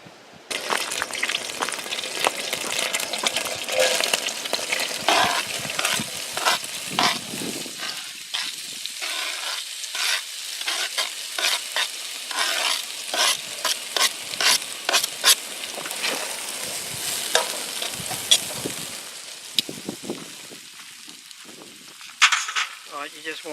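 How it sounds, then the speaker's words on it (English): Vegetables with snow peas fry over medium heat in a pan, giving a steady, close sizzle with repeated stirring scrapes and tosses throughout, and a voice talking at times over the cooking. "you just want to cook the vegetables on a medium heat"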